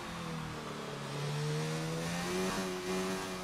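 An F1 race car engine on a hot lap at the German circuit in a racing video game, a steady mid-pitched drone that rises and falls slightly with revs, moderately distant and continuous.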